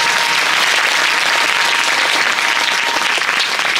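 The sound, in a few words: audience applause at a Bhagwat Katha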